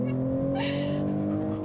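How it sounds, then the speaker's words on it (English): Mercedes CLE 53 AMG six-cylinder coupé doing a launch-control race start, a brief loud engine rumble with a rising rev and steady harmonic tones, heard alone. "Launch control, race start."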